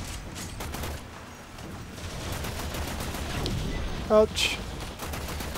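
Rapid automatic gunfire during a Warframe defense mission, with dense bursts of shots rattling on steadily through the clip while a voice briefly exclaims.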